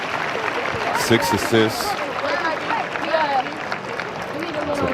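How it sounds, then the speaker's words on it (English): Crowd applause at a women's basketball game rises as a player gets to her feet after a fall, a continuous wash of clapping and crowd noise heard under a commentator's voice, with a few squeaks and whistles. "you hear the applause as she comes to her feet"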